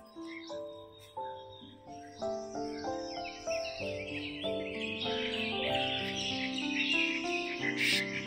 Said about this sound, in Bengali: অনেক দিন পরে আর কি এইরকম পাখির ডাক শুনছি।